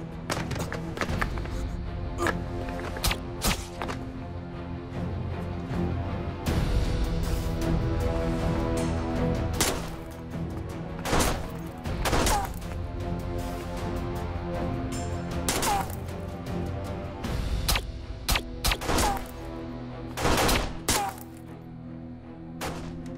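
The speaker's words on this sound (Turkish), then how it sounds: "Silah sesi. Birileri ateş ediyor." Dense, continuous barrage of sharp gunshot cracks and thuds, loud and chaotic throughout, in a busy scene from the Turkish TV drama Kurtlar Vadisi Pusu.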